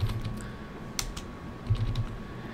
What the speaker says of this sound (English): So I could type in newsletter.